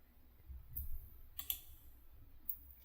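A computer mouse clicks while someone works in Romexis dental implant software. Three soft, crisp clicks are spaced about a second apart over a quiet background.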